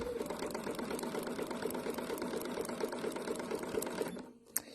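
A sewing machine stitches raw-edge appliqué with a rapid, steady mechanical whir and needle chatter, running close and continuous before stopping abruptly near the end.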